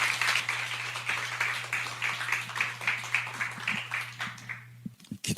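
Church congregation applauding to welcome the pastor before a sermon, sustained dense clapping over a steady low hum for about five seconds, then breaking off abruptly into a few scattered claps.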